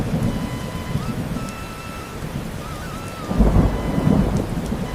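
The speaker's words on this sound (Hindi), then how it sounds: "आज बारिश तो इतनी तेज हो रही है" Heavy rain pours steadily in a cartoon scene, with a deep thunder rumble swelling partway through; the downpour stays loud and continuous throughout.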